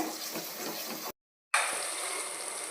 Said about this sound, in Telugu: ఇప్పుడు వాటర్ వేసేసుకుందామండి